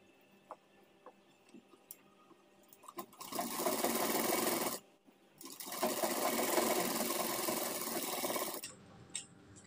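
A sewing machine stitches a trouser seam close by, starting after a few light clicks and running in two sustained whirring bursts with a short pause between them, then stopping.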